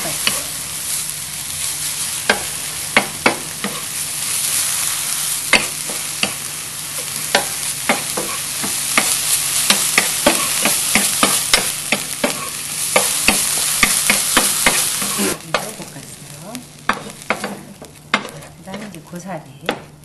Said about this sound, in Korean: 고기를 먼저 볶아주신 다음에 고사리를 볶아주세요.